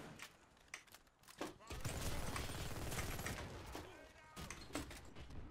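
A Magpul FMG-9 submachine gun fires in rapid, dense bursts during a Warface PvP match, with one sustained loud stretch of near-continuous shots, then shorter bursts.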